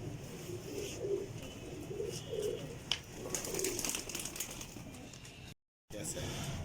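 Rooftop flock of pigeons kept by a fancier, cooing in soft repeated low phrases throughout, with people talking nearby over steady outdoor background noise and a brief gap near the end.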